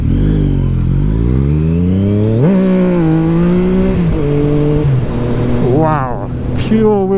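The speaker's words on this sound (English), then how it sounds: "Wow, pure wheel spin." A Yamaha MT-09 motorcycle spins its rear wheel, the engine revving loudly and close with rising and falling pitch sweeps through several surges.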